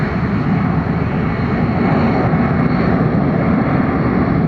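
An airliner takes off at Atlanta Hartsfield airport with a loud, steady jet engine roar, a broad rumbling wash of sound that holds without a break.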